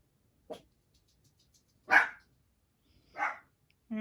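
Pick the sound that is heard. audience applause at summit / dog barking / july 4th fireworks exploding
dog barking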